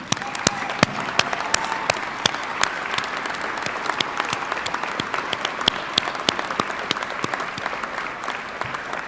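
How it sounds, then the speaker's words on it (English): Alumni at a Dakota State University fall commencement clap for themselves in a large hall. The applause is sustained and loud, with crisp individual claps over a steady wash and faint crowd murmur beneath. "give yourselves a round of applause"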